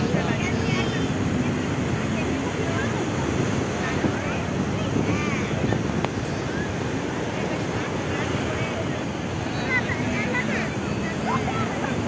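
Sea waves at Puri beach at night surge and wash in a steady, continuous roar, with wind buffeting the microphone throughout and a faint voice in the background.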